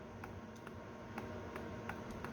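A sump pump float switch clicks as it is actuated by hand, faint, sharp ticks at uneven intervals, about eight in all, over a steady low background hiss.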